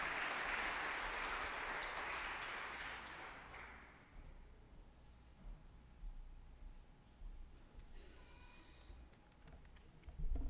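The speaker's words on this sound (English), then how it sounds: "Let's please give him a round of applause" Applause from the audience at an eighth grade graduation for school principal Austin Jackson, a strong burst of clapping that dies away after about four seconds, leaving quiet room sound with faint scattered noises.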